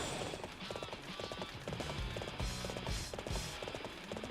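Rapid clip-clop of a fast horse galloping in Dynasty Warriors 7, steady hoofbeats over busy game music and effects at moderate loudness.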